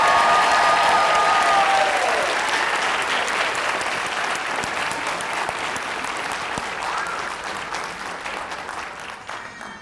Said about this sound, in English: Let's give all of our Teachers of the Year another round of applause.